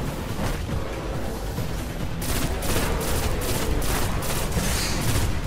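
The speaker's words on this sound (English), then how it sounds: "our gun is actually doing pretty good damage" Dense gunfire in the shooter game Destiny, a sustained roar of rapid automatic shots and explosions that grows heavier and more rhythmic partway through, loud and continuous with no talking.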